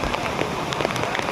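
Heavy rain pours during an outdoor nature outing, a dense, steady patter with scattered sharper drops, heard for a moment with faint human presence in the background.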